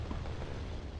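A bomb explosion in the tank game War Thunder gives a dense, steady low rumble of blast noise that fills the whole short moment without any distinct separate bangs.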